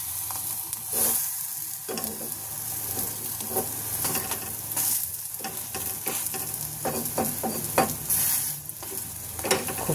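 Food sizzling in oil in a kadai (wok), a constant crackling fry broken by scraping and clattering stirring strokes at irregular intervals.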